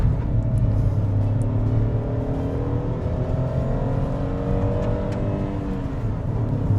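A Tata Punch i-Turbo car accelerates with a steady, loud engine drone whose rising harmonics climb gradually throughout, heard from inside the cabin with no talking.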